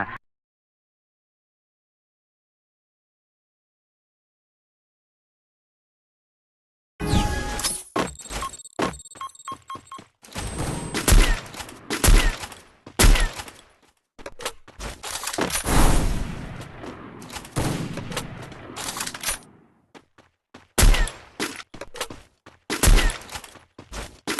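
Gunfire in the Free Fire mobile game breaks out after a silent start, with rapid bursts and single loud shots in quick clusters, sharp and close, with clinking hits between volleys.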